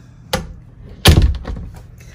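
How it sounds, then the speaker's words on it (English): A storage room door being shut: a light knock or latch click, then a louder solid thud as the door closes, followed by faint rattling settling sounds in a quiet room. "shut off the light, close the door"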